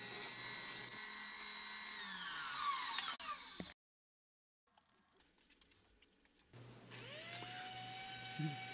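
A power tool trims a wooden sluice base to width, whining at high pitch and then winding down, followed by a brief silence and the tool spinning back up with a rising tone; no talking.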